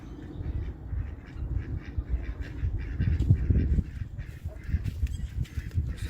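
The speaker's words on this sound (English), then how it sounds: "I have a duck in my bed" Duck in a garden bed beside a low tunnel, quacking and honking close by in a dense, continuous run of calls, with no talk over it.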